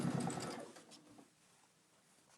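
A sewing machine back stitching bag pockets gives a short, close whirring burst of rapid stitching that slows and trails off into near quiet, with a brief click at the very end.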